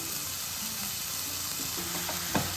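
Chili powder and spice paste sizzle steadily in a hot pan for a potato kurma, a close, continuous frying hiss with a brief stir near the end.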